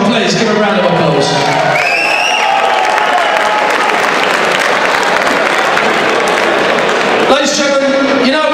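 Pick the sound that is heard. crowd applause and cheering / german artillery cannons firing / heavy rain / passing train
crowd applause and cheering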